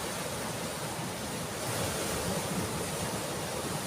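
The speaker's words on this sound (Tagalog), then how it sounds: "Grabe yung alon, lakas ng alon dito." Constant heavy roar of strong surf washing on the shore at Anini-y, Antique, dense and unbroken, with a slight swell midway, some wind and light rain.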